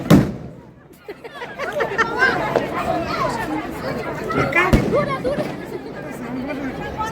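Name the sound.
firecrackers exploding at New Year celebration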